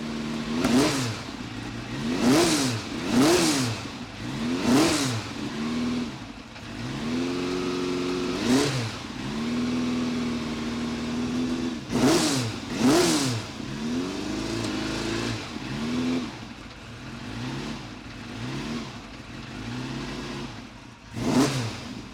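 Ferrari 308 GT4/LM race car engine firing up and revving hard in repeated sharp blips, each rising and falling in pitch, close and loud with short idling gaps between bursts.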